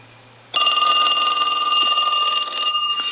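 The bell of an old Western Electric Stowaway box telephone rings loudly and continuously with a bright metallic jangle that begins abruptly after a brief quiet moment.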